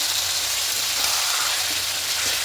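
Raw chicken laid into a hot pan over a medium flame, a steady, loud broadband sizzle hissing continuously with no talk.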